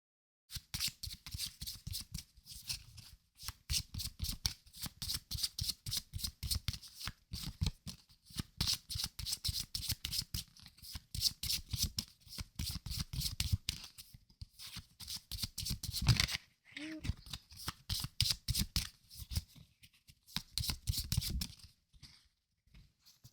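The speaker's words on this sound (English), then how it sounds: "So let's go ahead and shuffle and then lay out the remaining cards." Magic the Gathering cards from a Return to Ravnica pack are shuffled over and over in a quick riffling rhythm, crisp and close, with no talking.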